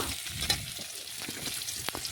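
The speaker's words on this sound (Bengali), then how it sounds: "পেঁয়াজ একটু নাড়াচাড়া করে পেঁয়াজটা লাল লাল ভেজে নেব।" Chopped onions frying in hot oil with whole cumin and dried red chillies, a close crackling sizzle broken by brief scraping clicks as a spoon stirs them around the pan.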